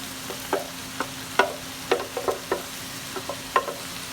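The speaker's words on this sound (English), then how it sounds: "we're going to take our collards and we're just going to add them in" Collard greens dropped into a pan of browned meat and stirred: a series of irregular soft scrapes and taps over a steady low sizzle, close and quiet with no talk.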